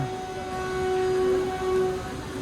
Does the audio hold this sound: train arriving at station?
yes